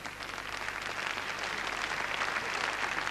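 An arena audience at the 1992 DTB Cup gymnastics all-around applauds for Svetlana Boginskaja after her floor exercise, giving steady, even clapping that sounds somewhat distant and holds without a break.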